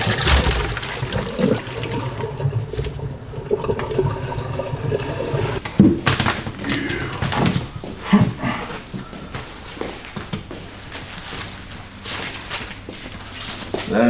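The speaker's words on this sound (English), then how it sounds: "we're about to get those shrimp and dump them in a strainer, get all that water off" Boiled shrimp and their cooking water poured into a strainer, giving a sustained splashing, gushing pour with clatter and bumps of the shrimp landing. Loud and close, the pouring continues for several seconds and then tapers off.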